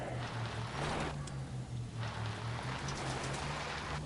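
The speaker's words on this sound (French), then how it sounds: "Ah, il pleut." Steady rain in the video game L.A. Noire hisses throughout, a dense wash of falling water over a low droning hum, constant and fairly loud with no voices.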